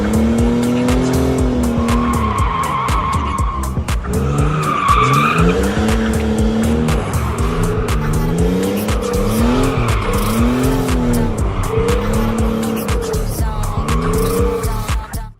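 A car's tires squeal loudly and continuously during handbrake-turn practice, the wavering screech rising and falling in pitch over a revving engine for about fifteen seconds before cutting off abruptly.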